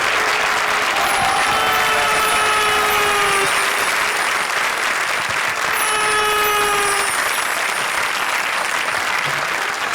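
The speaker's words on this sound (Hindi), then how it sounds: "तालियां बजाओ रे हमारे सांबा और कालिया के लिए।" Steady, dense audience applause fills a comedy stage show, continuous and loud for the whole stretch with faint tonal sounds and music woven underneath.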